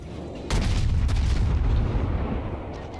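A loud, booming naval gun salvo from a warship in World of Warships gameplay fires all at once, followed by a second blast and a long rumbling decay.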